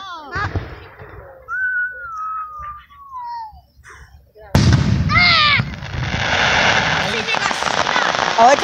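Fourth of July firecrackers whistle and crackle, starting with a faint whine, then bursting into a loud, dense string of pops and crackles, with people talking and exclaiming over it.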